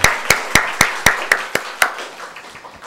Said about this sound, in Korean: 우리 송영경 자매에게 감사의 박수 드리도록 하겠습니다